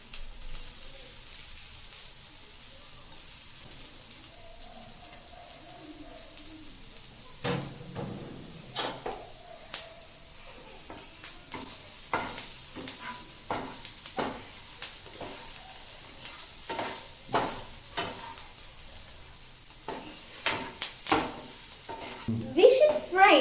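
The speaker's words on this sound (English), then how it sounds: "We should fry it nicely, but we shouldn't burn it." Curry leaves frying in a pan of hot oil for a paneer roll, a steady crackling sizzle with sharp popping bursts that grow louder and denser toward the end, with occasional stirring clatter.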